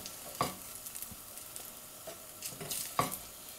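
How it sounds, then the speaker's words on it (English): Vegan cauliflower fritters fry quietly in a pan while being flipped, a soft steady sizzle broken by a few sharp scraping clicks of the spatula, fairly faint and close, with no voices. "let's flip them through again to make sure they're cooked properly on both sides"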